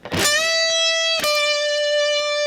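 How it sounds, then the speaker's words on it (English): On an electric guitar with a distorted tone, a pick rakes across palm-muted dead strings into one fretted note that rings on, with a second muted scrape partway through, during a lesson on a guitar solo. "Raking on those strings with the palm covering them."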